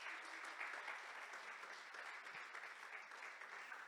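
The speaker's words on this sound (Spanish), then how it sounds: "Dese un aplauso pues en esta mañana para que no se sienta tan mal." A church congregation at a Sunday service applauds together in a steady, even wash of clapping that holds throughout, heard from a little distance and fairly soft.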